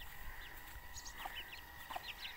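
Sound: Thai hen clucking

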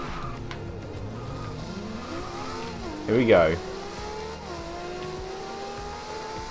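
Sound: Datsun rally car engine and tires in video game Forza Horizon 2

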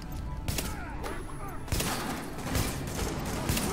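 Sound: sniper rifle shots in the video game The Division

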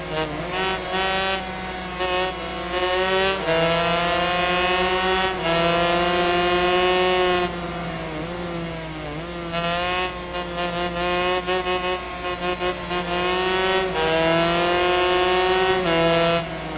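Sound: 125cc two-stroke motorcycle racing in video game Ride 3

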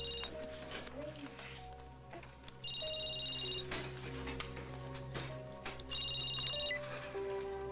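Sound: telephone ringing, a new phone

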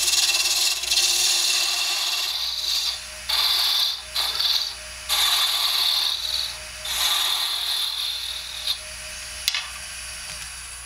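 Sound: spindle roughing gouge roughing out wood on a lathe

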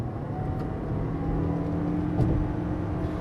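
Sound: Toyota RAV4 2019 hybrid petrol engine revving high

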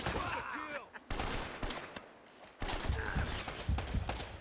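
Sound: enemy gunfire in video game Uncharted: Drake's Fortune

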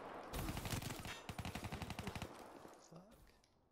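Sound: gunshots in a video game

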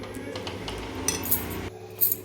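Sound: spoon breaking lumps in besan pithla batter

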